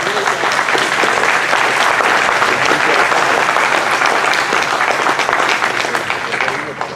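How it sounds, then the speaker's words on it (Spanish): A church congregation breaks into loud, sustained applause that fills the whole stretch at steady volume, with voices mixed into the clapping. "Denle un aplauso al Señor."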